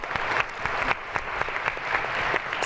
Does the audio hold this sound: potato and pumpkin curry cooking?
no